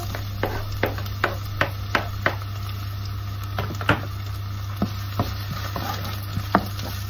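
Onion frying in olive oil in a pan, with a faint steady sizzle under a run of light regular taps and scrapes, close by, with a constant low hum behind and no talking.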